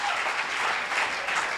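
Brief, even applause from a church congregation during a worship service, close and continuous from start to finish.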